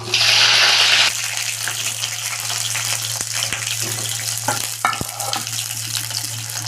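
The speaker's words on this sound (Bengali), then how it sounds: "তেলটা গরম হয়ে গেছে, আমি এবার পটলগুলো ছেড়ে দেবো।" Pieces of pointed gourd drop into hot oil with a loud burst of hissing. The sizzle then settles into steady, close frying with a few sharp clicks and taps from the pan.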